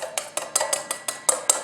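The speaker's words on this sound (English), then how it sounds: "and then whisk, and then I'll pour in another teaspoon and whisk" A whisk beats oil into mayonnaise in a bowl propped on a rolled cloth napkin, making quick, evenly spaced scraping clinks of metal against the bowl, about eight strokes in a steady, close rhythm.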